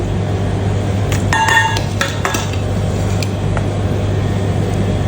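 Metal pots and utensils clank and clink as cooked potato and cabbage are moved into cooking vessels for an Onam sadhya, with a cluster of ringing metallic knocks over a steady background hum, and no talk.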